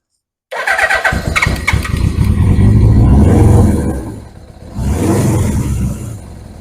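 A 1981 Suzuki GS750 motorcycle engine starting with the choke on, catching abruptly and running loud and close at a rough, rising idle, dipping briefly, then revving up again before settling.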